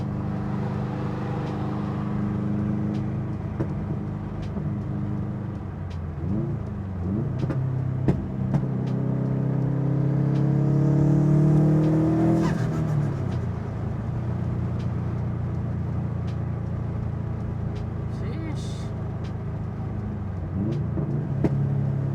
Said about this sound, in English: I'll do a couple pulls so you can hear the turbo